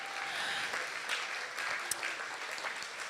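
Steady, dense applause fills an anniversary celebration awards reception, a continuous wash of many hands clapping at even loudness for about three seconds.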